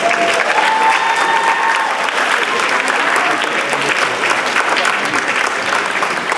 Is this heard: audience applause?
yes